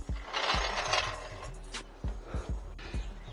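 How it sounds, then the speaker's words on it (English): Jack being raised under a car's fuel tank, a series of close mechanical clicks and ratcheting knocks at an irregular pace, moderately loud with some metallic rattle. "So now I'm going to put a jack underneath to hold it up."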